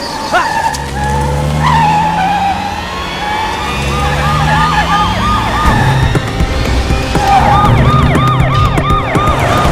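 A wailing police siren cycles up and down repeatedly over loud, steady vehicle engine and road noise, close and continuous throughout.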